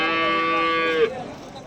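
A single loud bovine moo at a busy cattle market in Vaniyambadi, Tirupattur district, held for about a second then cut off, leaving low market background hum.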